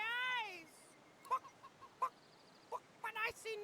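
Rooster in the video game Divinity Original Sin 2 gives a loud, rising honking crow, then short clucks and squawks come and go at a low level under quiet background sound.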